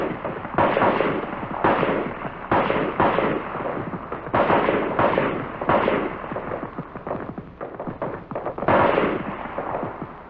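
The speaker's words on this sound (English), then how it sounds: "you fire 3 groups of 3 rounds each. Followed by a string of 10 rounds." M-14 rifle rapid-fire zeroing on a range: loud, sharp shots crack out in quick clusters and strings, each with a brief echoing tail, repeating steadily across the whole stretch.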